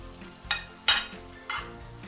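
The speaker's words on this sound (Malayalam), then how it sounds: "സോയാബീൻ ഇട്ട് നന്നായി ഇളക്കി കൊടുക്കാം" Soybean pieces stirred in a cooking pan for a soybean roast, giving three distinct scraping, clinking strokes of a utensil against the pan at a steady pace, fairly close and with no talk.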